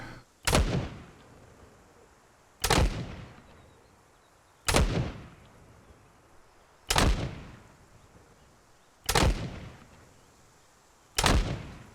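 High-explosive artillery rounds fire in ArmA 3, six loud booming shots spaced about two seconds apart, each a sharp blast with a short rumbling decay, no talk.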